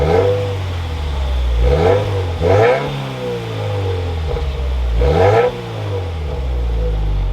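A 2021 Subaru WRX Limited engine with manual clutch fires up and revs repeatedly, loud and close, with sharp throttle blips rising above a steady idle rumble and no talking.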